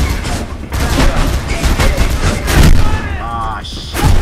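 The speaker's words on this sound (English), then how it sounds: "He has a shotgun." Shotgun fire in the first-person video game Mirror's Edge, loud booming blasts in quick bursts mixed with game action noise, close and dense, with a voice talking over part of it.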